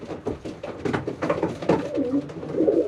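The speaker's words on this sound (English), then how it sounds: "He's a cracking pigeon" A racing pigeon coos in a loft, soft throaty burbling calls repeating in uneven bursts close to the listener, with rustling handling noise and no speech.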